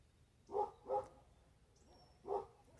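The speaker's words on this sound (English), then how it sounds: "Sorry about the dogs." Dogs barking outdoors at a rural home in the Missouri Ozarks, three sharp, fairly close barks, two in quick succession and one more after a pause, over quiet background.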